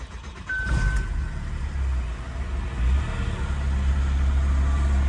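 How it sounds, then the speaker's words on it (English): VW Golf Cabrio engine cranks briefly and catches, then settles into a steady close idle for several seconds. "start the Golf"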